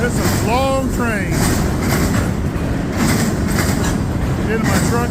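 A long freight train rumbles past nearby with steady wheel clatter. Short rising squeals and tonal whines cut through early on and again near the end, and a voice may be talking faintly underneath.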